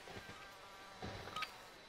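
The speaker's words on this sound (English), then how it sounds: "I heard a bee buzzing" A bee buzzes faintly and briefly during a Call of Duty Warzone match, a thin whine rising over a low, quiet game background.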